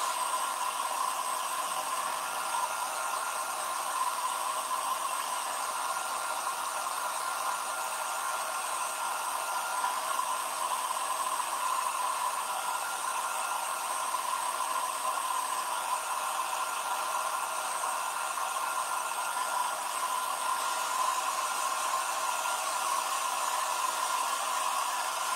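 A hair dryer blows on chalk paste applied to a 10-inch round frame, giving an even, unbroken whooshing hiss at close range that holds steady throughout, alone with no talk.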